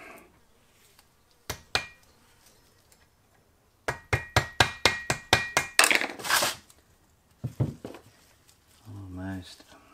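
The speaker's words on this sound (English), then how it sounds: "I just need to tap that out so I can push it through as well." Sharp metallic hammer-like taps drive a rusted key out of a 2003 Ducati 750 SS two-valve cylinder head camshaft, with a couple of early blows, then a rapid burst of about eight close, loud strikes, followed by a voice.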